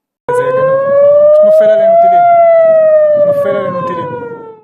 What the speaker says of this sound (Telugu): టెహ్రాన్ ఇస్ఫహాన్ మాషాద్ వంటి నగరాల్లో వార్ సైరన్లు మోగుతున్నాయి